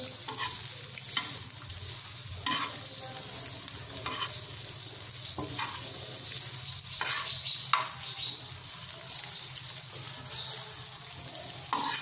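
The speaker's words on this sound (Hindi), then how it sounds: "अब अंडे ऐड करने के बाद इसे एक मरतबा अच्छे तरीके से मिक्स कर लेंगे" Egg keema is stirred in a pan over a steady sizzle, with a spoon scraping and knocking in repeated strokes about every second or two. No one speaks.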